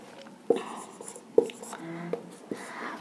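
Marker or chalk strokes on a board while units and dimensions are written, several sharp taps and scratchy strokes spaced across a few seconds with a faint voice murmuring between them.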